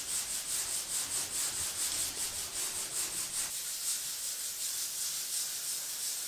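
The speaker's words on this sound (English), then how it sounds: "I stepped it up to 180 grit sandpaper simply because the 400 is taking too long" 180 grit sandpaper is rubbed by hand across the clear coat of a car hood in quick, rhythmic back-and-forth strokes, a close, steady scratchy rasp that continues without pause, with no voices.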